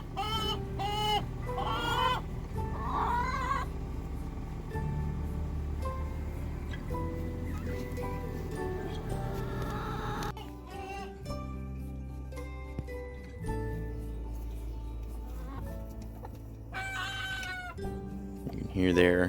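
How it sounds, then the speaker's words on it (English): A nine-week-old young rooster makes rough, unfinished attempts at crowing among a flock of chickens, with clucks and other bird calls nearby and a person talking over much of it. "You can hear there the rooster starting to try to find his crow."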